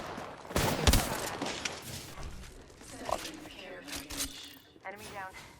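Apex Legends gunfire comes in bursts: sharp shots and rapid volleys at moderate level, spread across the clip. Voices are heard among them.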